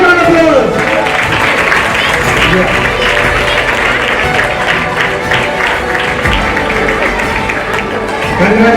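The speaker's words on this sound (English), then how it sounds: "Give a big round of applause." Audience at a chess tournament prize ceremony in Bengaluru applauding a prize winner, sustained full clapping from a crowd with an announcer's voice running over it.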